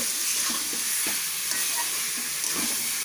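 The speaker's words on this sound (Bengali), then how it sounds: "আমি এবার এর মধ্যে দিয়ে দেব ম্যারিনেট করে রাখা মাংস আমি এটাকে এবার ভালোভাবে কষাবো" Marinated chicken frying in a pan for chicken korma over a medium flame, stirred now and then: a dense, loud hiss with several soft scraping strokes, close by and without talk.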